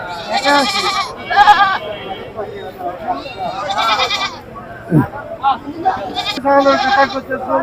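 Goats bleat loudly and repeatedly at a busy goat and sheep market, several close, wavering calls overlapping with people talking nearby.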